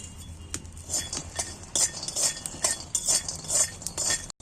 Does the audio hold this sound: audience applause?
no